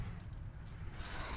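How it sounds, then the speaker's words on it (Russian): Coins are being collected in the tank game Hills of Steel, heard as light metallic jingling over a loud, steady engine rumble. "Так, монетки забираем."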